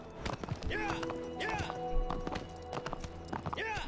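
Quick hoofbeats of a galloping horse in Shadow of the Colossus pound under steady talking, with swooping tonal sounds layered on top.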